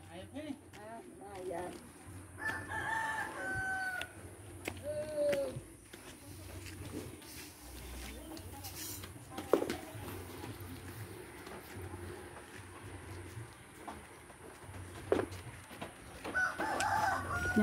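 A rooster crows several times on a morning walk toward a forest, with drawn-out calls at moderate distance among clucking fowl, while people talk nearby.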